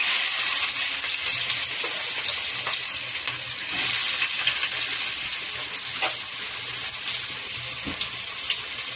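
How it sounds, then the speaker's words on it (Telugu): Fenugreek seeds, mustard seeds and onions fry in hot oil for a fish curry, giving a steady close broadband sizzle with scattered crackles and pops, uninterrupted by talk. "ఆయిల్ కాగింది కదా కొన్ని మెంతులు కొన్ని ఆవాలు కొన్ని నాలుగు వేసాను అవి ఏగుతా ఉండగా ఉల్లిపాయలు"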